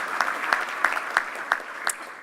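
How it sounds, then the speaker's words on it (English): Applause from an audience at a tech industry CFO awards ceremony, steady clapping lasting a couple of seconds with a few sharper claps standing out. "You have to stop clapping or I'm going to cry."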